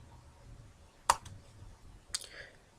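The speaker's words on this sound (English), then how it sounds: "So I'm going to click Record." Two sharp, quiet mouse clicks on a Record button, about a second apart, over a faint room background.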